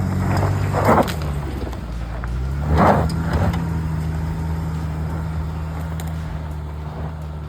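An AWD Ford Territory or Toyota RAV4 driving on an off-road trail, a steady low engine drone throughout, with two louder surges of bumping and scraping from the tires and body over rough ground.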